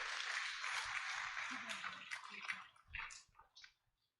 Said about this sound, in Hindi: इन सभी बच्चों के लिए हम फिर से जोर से ताली बजाकर इनका धन्यवाद करेंगे।